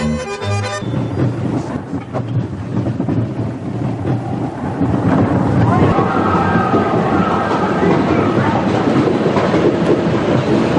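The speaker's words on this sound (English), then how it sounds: "a breathtaking bobsled ride down the icy slopes of the majestic Matterhorn" Matterhorn Bobsleds coaster cars at Disneyland rumble along the cylinder rail track on urethane wheels, a continuous heavy roar that swells louder partway through, with faint voices and ride ambience mixed in.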